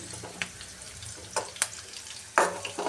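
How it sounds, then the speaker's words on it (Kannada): Garlic and green chillies fry in oil, a soft steady sizzle with a handful of sharp scraping stirs, the loudest near the end, and no talk. "ಇದು ಬೆಳ್ಳುಳ್ಳಿ ಹಸಿಮೆಣಸಿನ್ಕಾಯಿ ಸ್ವಲ್ಪ ಎಣ್ಣೆ ಮಾಡಿದ್ರೆ ಫ್ರೈ ಆಗಲಿ"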